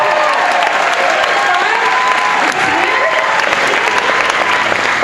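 Audience at a Sundance 2012 event applauds a guest, a steady wash of loud clapping with some cheering and voices mixed in throughout.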